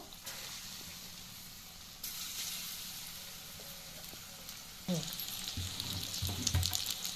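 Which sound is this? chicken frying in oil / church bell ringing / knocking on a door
chicken frying in oil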